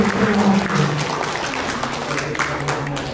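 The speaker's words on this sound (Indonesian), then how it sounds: "Bisa kasih aplaus semuanya." Audience applause at a health promotion multimedia training session in Brebes regency, a sustained crowd clapping that fills the room steadily, with a few voices faintly audible underneath.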